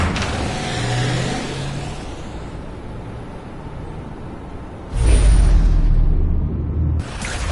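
A truck engine revs and roars in The Amazing Spider-Man 2 video game, a loud continuous motor drone that surges with bursts of heavier rumble, with no talking.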